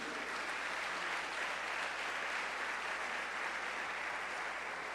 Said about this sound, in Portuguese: Se você crê nisso, aplauda o Senhor Jesus Cristo.